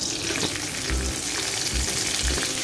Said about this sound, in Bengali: একটু নাড়াচাড়া করতে করতেই ভাজা হয়ে যায়।